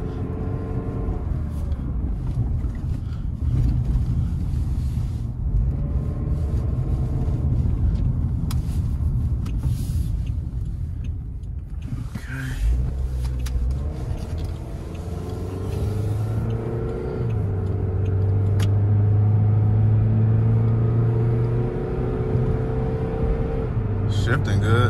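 A cheap used car bought at a dealer-only auction drives on the road, its engine rumbling and rising steadily throughout under road noise, with people talking over it.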